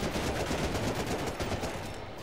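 Machine gun fire roars in the video game Medal of Honor: Rising Sun, a brief, dense, continuous rattle at steady loudness with no speech.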